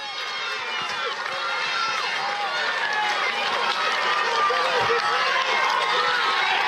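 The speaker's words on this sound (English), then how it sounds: "look at the crowd here at the top of this climb" A large crowd cheers and shouts at the top of the Alpe d'Huez climb during a cycling race, a dense roar of many voices that holds at full strength throughout.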